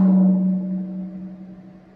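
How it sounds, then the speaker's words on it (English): A two-headed drum struck once, both membranes resonating together into a low sustained tone that rings out loudly and then decays slowly, heard alone. "when you strike the drum, the two membranes will resonate in unison to create a tone"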